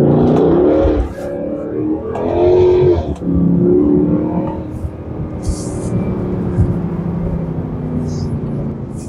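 A V8 car in sport mode accelerates with a loud, rising engine note in bursts that eases into a steadier drone, with a person talking over it.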